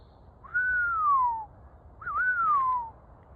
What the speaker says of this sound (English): Don't know why I'm whistling.